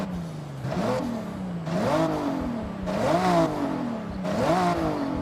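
A 1998 Toyota Supra RZ in Forza Horizon revs repeatedly, its engine note climbing and falling in four or five rising sweeps, loud and close with a rough mid-range growl and no talk.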